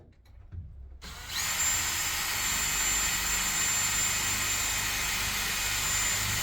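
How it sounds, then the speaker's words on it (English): A power drill boring through a prefabricated garage wall into wood, starting after a brief muffled pause with a sudden loud, steady high-pitched whine that holds continuously and close to the microphone. "I'm basically drilling a hole through the prefabricated garage hole into the wood."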